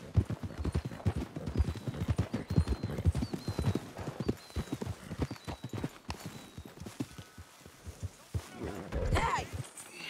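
Horse hooves clip-clop in a steady rhythm nearby in the video game Red Dead Redemption 2, with a horse neighing toward the end and a voice speaking briefly.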